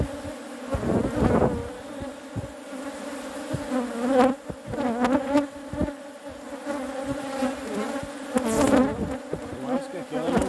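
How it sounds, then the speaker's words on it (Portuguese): A swarm of bees hums loudly and steadily around an open beehive while supers are inspected, with buzzing that swells and shifts as insects fly close past. "Que enxame, né, meu filho?"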